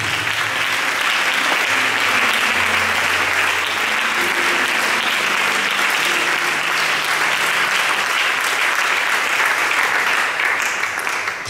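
A church congregation at a Sunday worship service applauds and cheers for Jesus, producing dense, steady clapping that fills the room without a break for about twelve seconds.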